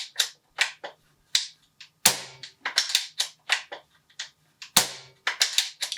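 SMK XS501 CO2 air rifle, a series of sharp snapping shots with quick mechanical clicks between them, close and fairly loud, irregularly spaced with a few stronger reports standing out.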